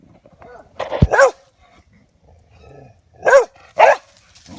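A dog barks in sharp, close bursts outdoors: a quick pair early on, then two more barks after a quiet pause, with faint background noise between.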